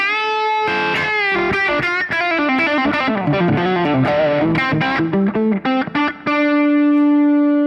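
Electric guitar played through a Fractal unit set to an HRM-style mid tone: a clean, sustained melodic phrase with quick runs and chords, bright and upfront, ending on a held note.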